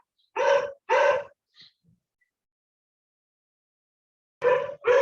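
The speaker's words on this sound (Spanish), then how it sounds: "Aquí tengo unos perros vecinos que se emocionan cuando ven otros perros y los saludan." Neighbours' dogs barking, two loud close barks in quick succession, then a short pause of near silence, then two more barks at the end, with nothing else audible.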